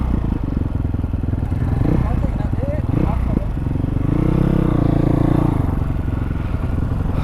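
A Chinese Karsx dirt bike runs with a steady, continuous engine drone throughout, rising briefly in pitch as it revs, with clattering and scraping mixed in. Voices talk faintly underneath.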